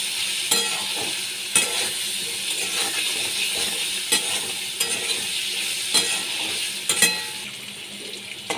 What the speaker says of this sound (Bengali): লাল করে আলুগুলো আমি ভেজে নিয়েছি